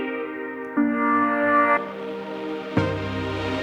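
A sliced synthesizer preset plays sustained tonal chords that shift abruptly every second or so, each section a different timbre and pitch, like chopped slices.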